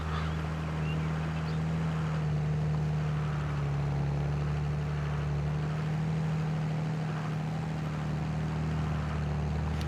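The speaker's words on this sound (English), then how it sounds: "I love the look and sound of this tractor though." Medium tractor engine in Farming Simulator 22, a steady low droning hum that holds evenly without breaks, fairly quiet and continuous.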